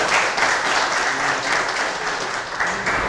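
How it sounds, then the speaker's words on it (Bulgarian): Sustained applause from a TuxCon conference audience, a dense, steady wash of clapping that carries evenly for about three seconds with no voices standing out. "Аплодисменти."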